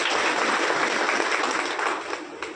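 Steady, dense applause from a stage-event audience, loud and continuous throughout without any talking over it.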